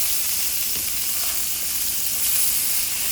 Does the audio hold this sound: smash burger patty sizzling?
yes